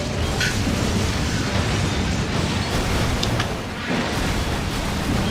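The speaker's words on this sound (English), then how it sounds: "Oh, that plane has gasoline flowing out of it, and it's on fire. That's an explosion." A dense, continuous roar of rumbling booms and crackling debris, loud and sustained, from a burning plane exploding in Resident Evil 6.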